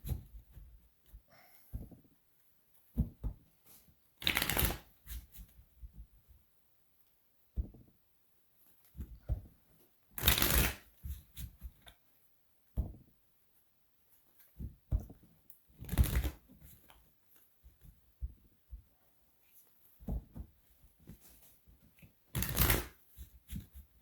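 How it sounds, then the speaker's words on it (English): Tarot cards being shuffled in several separate bursts, each a short riffle with quieter handling and tapping between, close and fairly soft. "Shuffle 4 times"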